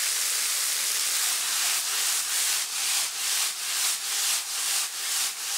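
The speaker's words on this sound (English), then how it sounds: "Once melted, add the dumplings and toss to coat them in the butter." Spaetzle dumplings pan-fry in non-dairy butter over medium-high to high heat: a steady, loud, close sizzling hiss, pulsing as the dumplings are tossed in the pan, with no talk.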